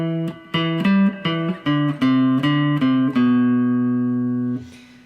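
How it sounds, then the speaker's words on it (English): An electric guitar plays a short variation of a riff, plucked notes in a steady rhythm, ending on a sustained ringing note that fades out. "Now there is a little variation that you can do to the main riff that would sound like this."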